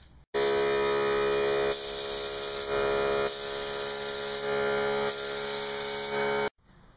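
White paint sprays onto taped motorcycle parts in three or four long bursts, a loud close hiss from the spray can with short pauses between passes.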